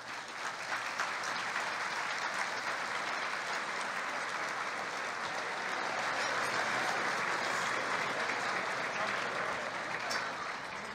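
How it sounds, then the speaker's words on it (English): An audience at an awards luncheon for park district agencies applauds steadily, with sustained crowd clapping that stays at an even level for about eleven seconds. "And let's give them another round of applause."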